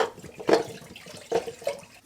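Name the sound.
PVC pipe of a sump pump put into water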